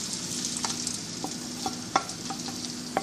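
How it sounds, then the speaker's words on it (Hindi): Garlic sizzles steadily in about half a cup of hot oil in a pan, a dense close frying hiss broken by a few soft clicks and stirring taps. "ये लहसुन मैंने इसके अंदर ऐड कर दिया। लहसुन को हम लोग फ्राई करेंगे लाइट गोल्डन"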